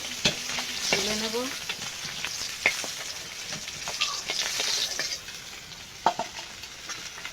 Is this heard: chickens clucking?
no